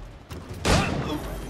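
A single loud gunshot-like burst from Assassin's Creed 3 cracks out sharply and rings into a noisy decay, heard close over game background sound.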